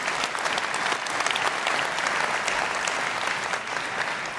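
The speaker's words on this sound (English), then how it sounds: "Give a round of applause to Joost." Audience applause at the World Cheese Awards 2025 in Bern, Switzerland: a steady, dense wash of many hands clapping that holds evenly throughout, with no one speaking over it.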